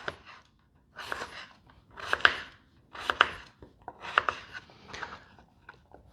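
A knife cubes potatoes on a cutting board in short bursts of rapid taps, roughly one burst per second, close and fairly quiet.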